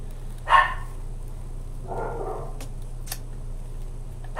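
Dogs bark indoors in a home craft room: one short sharp yap near the start, then a softer burst of barking a moment later, both faint and set against a steady low hum.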